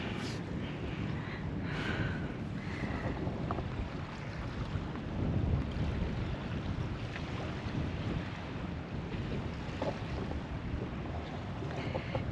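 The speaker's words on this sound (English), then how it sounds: "We've now got a lot of wind." Strong wind, gusting to about 20 knots, roars continuously over a sailboat at anchor, with heavy buffeting rumble and faint water movement underneath, no voices.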